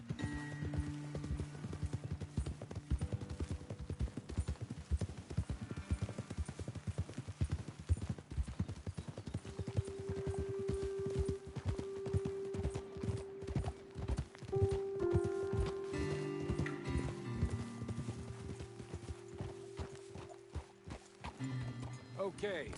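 Horse hooves clip-clop in a steady walking rhythm in the video game Red Dead Redemption 2, with occasional whinnies, as people talk over them throughout.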